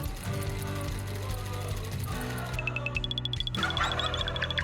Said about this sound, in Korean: 재봉틀을 사용하고